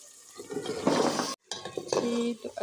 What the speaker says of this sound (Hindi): तो अब इसमें मैं टिंडे ऐड करूँगी